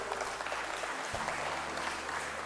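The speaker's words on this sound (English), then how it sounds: "Let's give them a round of applause." Audience applause at an investment conference, a steady wash of clapping from a seated crowd that holds evenly through the whole stretch without voices.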